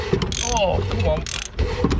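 A big socket wrench ratchets on a 1962 VW Beetle being saved from a scrapyard, giving a close, steady mechanical clicking over about two seconds with no talk.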